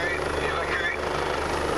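A helicopter flies over a beach in Martinique during a tsunami evacuation drill, its steady rotor and engine roar filling the short stretch at a constant, fairly close level.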